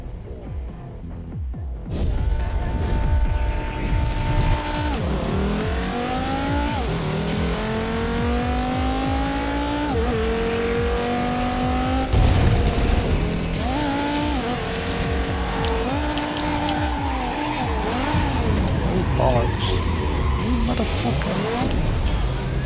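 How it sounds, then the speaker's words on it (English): Cars drifting with tires screeching in the Ridge Racer Unbounded racing game, long sweeping squeals rising and falling over a loud continuous engine roar for most of the run. "just choose a car and then drift it"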